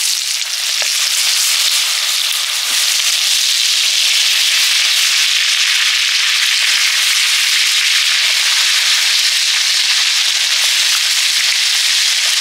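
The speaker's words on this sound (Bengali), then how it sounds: "বেগুনগুলো ভাজবো।" Eggplant pieces frying in hot oil left from fish fat, a steady dense crackling sizzle that stays loud and close throughout with a few small pops, no voices.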